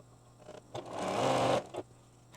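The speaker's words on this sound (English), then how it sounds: "now we're going to sew these on." A sewing machine stitches quilt pieces for a tessellating cat quilt in one steady burst of about a second, with faint short bursts around it and no talking.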